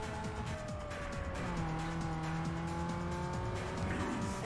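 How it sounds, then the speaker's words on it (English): A Peugeot in Need for Speed Underground 2 screams near the redline in first gear, a loud steady engine tone holding high pitch with faint tire noise beneath. "The right way to drive a Peugeot, you're redlining it in first gear and hear that engine"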